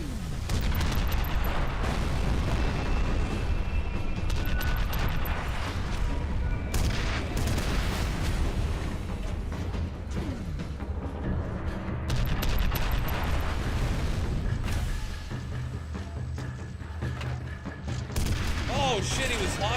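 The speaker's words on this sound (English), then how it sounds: "those rockets are so off" In a MechWarrior game, rockets from a large mech burst in dense, continuous rolling explosions and gunfire, loud and unbroken throughout the stretch.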